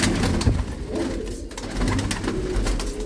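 Blue-footed pigeons cooing close by, soft low coos rising and falling amid flapping, shuffling and rustle in a crowded loft.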